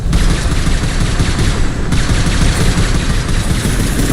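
Sustained, dense gunfire from the video game Mass Effect 2, a loud continuous barrage of rapid shots and bursts filling the whole stretch with no pauses.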